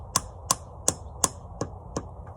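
A hammer drives a sap tap into a tree outdoors during evening chores: six sharp, evenly spaced taps about a third of a second apart, close and crisp, with the last two slightly softer.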